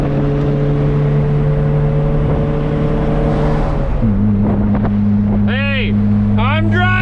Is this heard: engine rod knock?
yes